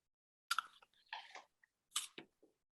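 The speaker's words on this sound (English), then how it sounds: "Make sure you have your apple or other crunchy fruit or vegetable ready." Someone crunches into an apple or similar crunchy fruit, a few sharp crisp bites followed by quieter chewing crunches, close and alone in a silent room.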